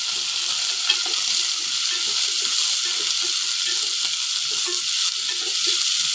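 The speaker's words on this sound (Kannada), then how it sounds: "ಹಸಿಮೆಣಸಿನ್ಕಾಯಿ ಸ್ವಲ್ಪ ಎಣ್ಣೆಯಲ್ಲಿ ಬಾಡಿಸ್ಕೊಳ್ಳಿ" Green chillies and curry leaves sauté in a little oil for beetroot palya, giving a steady, close hiss of frying with light stirring scrapes throughout, no voices.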